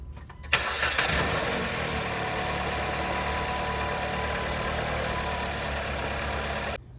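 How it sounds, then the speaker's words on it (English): A Jeep Compass or Patriot engine cranks and catches after an oil change, then settles into a steady, loud idle that runs on evenly close by, with no talk over it. "we're gonna start the engine, run it for about a minute or two"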